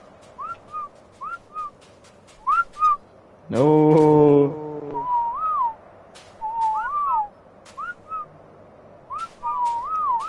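A person whistles repeated swooping two-note calls, clear and fairly close, interrupted midway by a loud, sustained voiced sound lasting about a second; a brief spoken word is also heard.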